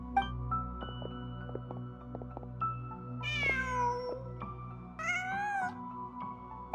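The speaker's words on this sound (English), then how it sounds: "Just a cat." A cat in the Genshin Impact video game gives two drawn-out meows a couple of seconds apart, clear and close over a steady background of game music and ambience.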